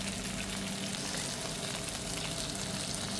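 Chicken pieces frying in hot oil for biryani, a dense, continuous sizzle that stays loud and even throughout, close by with no voices.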